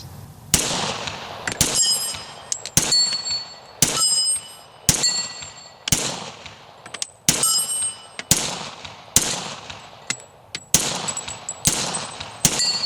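A .40 S&W pistol fires a series of loud, sharp shots at steel target plates, with metallic rings on hits, spaced roughly a second apart in uneven pairs and singles outdoors, no voices.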